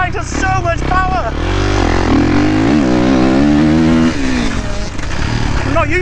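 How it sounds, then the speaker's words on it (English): A dirt bike engine on a stubble-field track revs loud and close, its pitch climbing and wavering through hard acceleration, while a voice talks over it. "Oh, this bike has so much power."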